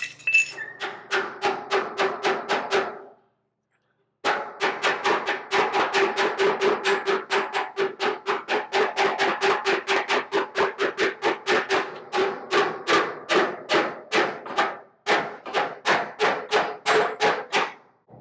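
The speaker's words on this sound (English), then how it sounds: "You get the hammer and dolly. I'm going to work this out while we got tension on it." Hammer striking steel over a dolly while shaping body panels on a 1937 Lincoln Zephyr, a long run of rapid, steady metallic blows, close and loud, with a brief pause near the start.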